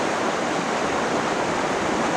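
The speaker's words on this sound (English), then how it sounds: "these rivers are so peaceful, Tom." A Pacific-coast river on the Olympic Coast, the Quileute where the Bogachiel joins it, rushes in a constant loud wash of flowing water with no voices.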